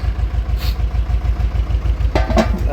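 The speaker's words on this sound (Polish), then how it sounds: "Traktor niech pochodzi z jakieś 10 minut." An Ursus tractor engine idles, a loud, close, steady low diesel chug with an even rapid pulse, with brief knocking sounds near the end.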